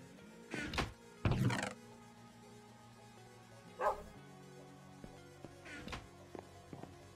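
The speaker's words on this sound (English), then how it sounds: "Dogs barking, cats meowing." Dogs bark in a Minecraft game: a few sharp, separate woofs spaced apart, the loudest early on, with faint clicks and thumps between them.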